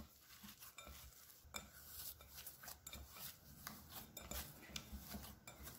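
Hands knead mung bean cake dough, making a quiet, continuous soft rubbing and squishing texture with faint irregular taps and no talking.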